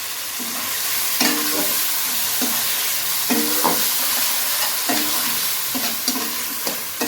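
Ginger garlic paste frying in a pan for a Bengali banana-flower and prawn curry, a steady close sizzle broken by repeated scraping stirs of a spatula at an irregular rhythm, with no voices.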